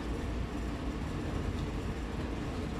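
Heavy freight train in Train Sim World 4 rolling and slowing with brakes dragging at the rear, a steady low rumble and hiss of wagons on track, continuous and moderately loud with no talk.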